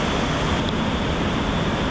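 A creek swollen by heavy January rain from an atmospheric river rushes past a campsite, giving a steady, dense roar of water that stays loud and unbroken throughout.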